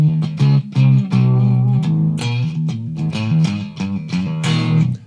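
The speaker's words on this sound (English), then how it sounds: "I have no distortion on my guitar" A clean electric guitar with no distortion plays a riff, loud and close with bright, clearly separated picked notes in a steady, driving rhythm.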